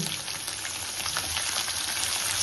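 Onion pieces fry in hot oil for Rayalaseema uggani, following a tempering of mustard seeds, cumin, chana dal, urad dal and a dried red chilli. A steady, even sizzle runs throughout, close and unbroken, with no voices.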